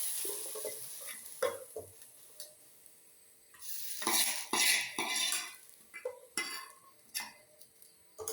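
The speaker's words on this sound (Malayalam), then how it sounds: "ചമ്മന്തിക്ക് കടുക് വറുക്കാനായിട്ട് ഒരു പാൻ വെച്ചിട്ട് ചൂടായപ്പോൾ എണ്ണ ഒഴിച്ച് കൊടുത്തിട്ടുണ്ട്" Coconut oil heats in a pan on a stove for frying mustard seeds for chutney: a light, intermittent sizzle mixed with clinks and scrapes of a utensil against the pan.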